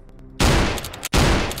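Two heavy shotgun blasts in Invention 3, a zombie shooter in the style of Left 4 Dead: each is a loud, close, booming report that fills the sound and rings on for most of a second, with a short break between them.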